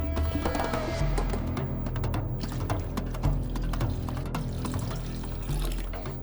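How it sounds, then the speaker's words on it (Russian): Water pouring steadily into a pot of dovga, a yogurt-based Azerbaijani soup, a continuous close splashing stream with no talk over it. "Поэтому воду можно добавлять смело еще."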